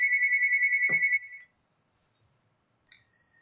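A phone ringtone sounds as a steady pulsing tone for about a second, then cuts off, followed by a quiet room with a couple of faint clicks and a short beep.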